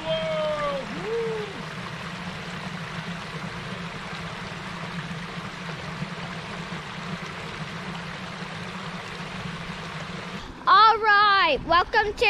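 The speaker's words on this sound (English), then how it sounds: "I am going to cross this little creek." A small creek flows along a nature trail with a soft, steady rushing wash. Near the end a voice cuts in briefly over the water.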